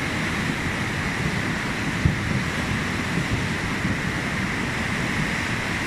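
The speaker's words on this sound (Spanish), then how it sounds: "El río suena, mira." A rushing river in Cuenca, Ecuador, running high with logs carried downstream, gives a steady, loud broadband roar with no breaks, heard up close and alone.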